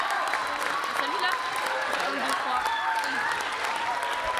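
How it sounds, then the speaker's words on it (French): Audience applause after a school choir of sixth-graders sings with a performer in a French concert hall, a dense continuous roar of clapping with some cheering mixed in, loud and unbroken throughout. "Tonnerre d'applaudissements"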